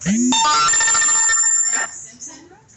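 A loud phone ringtone plays a bright electronic melody for a couple of seconds, then stops as faint background sounds remain.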